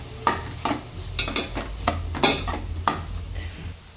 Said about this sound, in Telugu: ఇంకా అన్నీ వేసేసుకొని మంచిగా మిక్స్ చేసుకోవాలి.